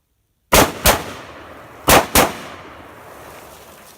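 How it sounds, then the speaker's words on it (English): Four sharp, loud AR-platform rifle shots ring out at night, fired as two quick pairs about a second apart, each crack trailing off into a rumbling echo across open ground. "Now we're going to try the AR platform, and I'm going to do 2 shots and then 2 shots, pretty rapid fashion."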